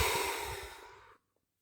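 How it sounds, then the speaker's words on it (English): One long, deep breath drawn and released close to the microphone, breathy and steady, cutting off abruptly into silence. "Deep breath."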